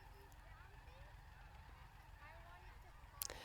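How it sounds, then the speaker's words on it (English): A whole field of geese honks outdoors, faint and distant, with scattered calls under a low background rumble and a sharper sound near the end. "the background noise is sponsored by a whole field of geese today"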